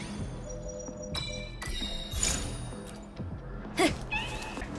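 A cat meows in the Wuthering Waves video game, hidden within a stage, with short meows mixed among game pings, clinks and taps at moderate loudness.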